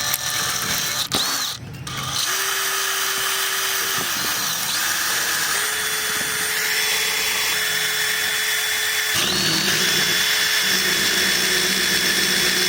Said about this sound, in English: let's grind off as much rust as we can and get to it.